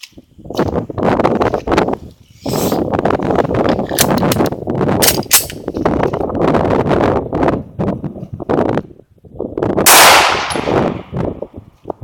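Shots from a Ruger SR 9mm pistol firing Inseptor ARX ammunition ring out outdoors, a rapid string of sharp, loud cracks with brief gaps, followed by a lone crack near the end.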